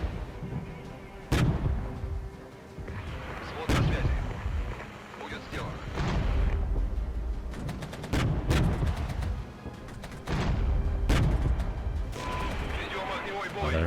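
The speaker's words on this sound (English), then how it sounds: "Savage mortar strike. Destroying the defenses." Heavy mortar strikes pound enemy defenses in the wartime strategy game Regiments, several loud booming impacts with rolling rumble, layered over dense battle noise and someone talking.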